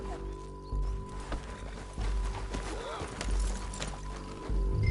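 Horse hooves clip-clopping at speed in the video game Red Dead Redemption 2, rhythmic thuds alongside game sounds and a voice talking over the riding.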